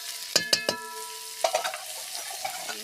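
Kohlrabi and potato frying in a pan with a little sugar, a few sharp clinks of a spoon against the pan at the start and again midway over a soft, steady sizzle.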